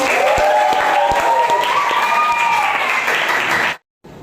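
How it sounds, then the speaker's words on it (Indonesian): A small group of schoolchildren claps together in a classroom in a short burst, sharp hand claps mixed with excited children's voices, then it cuts off abruptly. "tepuk tangan buat Gifari."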